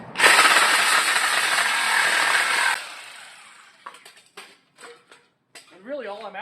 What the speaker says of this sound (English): now the Sawzall blade's got a little bit more room to do its thing.